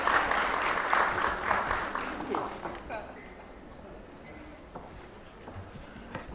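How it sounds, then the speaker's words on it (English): Applause from a conference plenary audience fills the opening seconds fairly loudly, then fades away to quiet room tone with a few scattered claps. "Let's have a round of applause for this plenary one."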